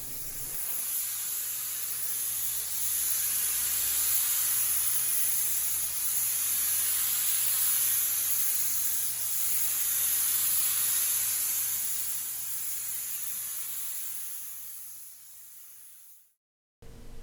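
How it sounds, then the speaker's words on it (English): Spray gun painting a boat hull, a continuous loud airy hiss that swells and eases in long passes, alone, cutting off abruptly near the end. "took turns spray painting the boat"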